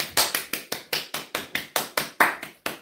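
Hands clap in a steady, even rhythm, about a dozen sharp claps close by in a small room, with no talking over them.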